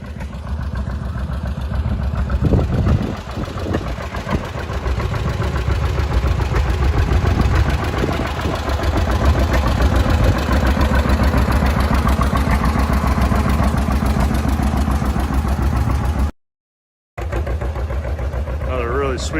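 A late-model John Deere Model A tractor idling at a steam engine show, a steady low, throbbing engine rumble running close and loud throughout, with a brief dropout near the end.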